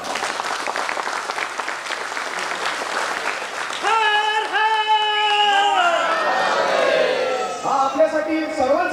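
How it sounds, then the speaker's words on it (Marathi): An audience claps together at a community film screening gathering, a dense wash of applause that gives way to loud sustained voices calling out in unison. "तुम्ही स्वतःसाठी एक टाळ्या वाजवा"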